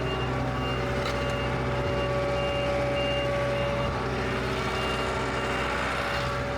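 A truck backs up with steady, repeating reverse-warning beeps over a loud, constant diesel engine rumble, heard close by on an off-grid homestead with no talk.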